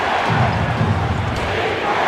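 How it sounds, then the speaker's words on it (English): Home crowd cheering in the basketball video game NBA Live 07 during an All-Star Weekend game, a steady dense roar of arena noise that holds at one level for about two seconds. "This home crowd absolutely loves it."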